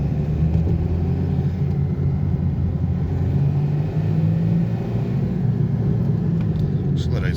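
A used BMW E46 320d diesel car drives along with a steady low engine rumble and road noise, the drone rising slightly as it accelerates, heard from inside the cabin with a voice speaking over it.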